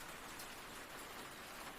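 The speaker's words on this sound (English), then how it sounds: "the rain outside my window falls in pulses," Steady rain falls outside a window, a dense, even hiss of drops with slight swells in intensity, continuous and fairly close, with no voices.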